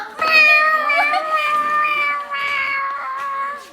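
A voice imitates a cat, meowing over and over in a high, nasal, drawn-out series that fills the whole stretch.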